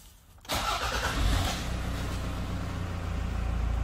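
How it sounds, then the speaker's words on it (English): A 2006 Toyota Land Cruiser D4D automatic diesel cranks briefly and fires up, then settles into a steady, close idle with a low rumble. "start the car up"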